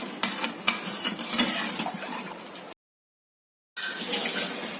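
Half a litre of water is poured into a pot to make sugar syrup in a home kitchen. The stream splashes steadily and fairly loud, breaks off briefly, then resumes.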